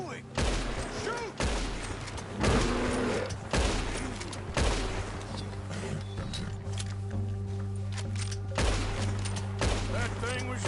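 Gunshots ring out in Red Dead Redemption, a western video game: a few sharp, separate shots over a steady low hum, with characters talking in between.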